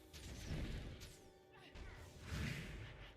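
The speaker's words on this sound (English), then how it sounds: "That is still an explosion." Explosions go off in Guild Wars 2 combat, with two swelling crashing bursts and whooshing impacts rising and falling over a few seconds, all fairly quiet overall.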